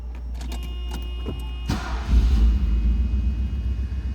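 A 1985 Mercedes-Benz 380SL convertible starts up: a short mechanical whir of the starter, then the engine catches with a sudden low rumble that settles into a steady idle nearby.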